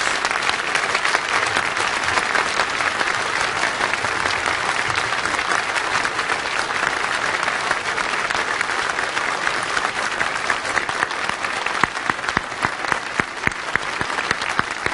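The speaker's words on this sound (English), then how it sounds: "I'd like to ask all of you to stand up and clap for those martyrs" Sustained applause from a large standing crowd at a convention, dense and steady throughout with a few sharper claps near the end.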